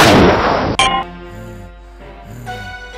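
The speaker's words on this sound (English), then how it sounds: "You shouldn't shoot guns on a spaceship." A single sharp, loud gunshot-like blast opens a sci-fi short set aboard a spaceship, followed by a ringing crash and then quieter tonal sound effects and low hum.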